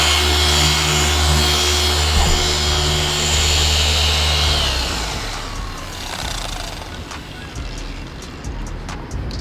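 A rotary polisher works compound into car paint after 3000-grit sanding, a steady loud machine drone that shifts and roughens partway through as the pad moves across the panel.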